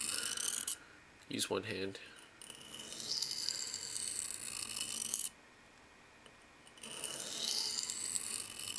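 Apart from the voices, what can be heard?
folding knife being sharpened on a stone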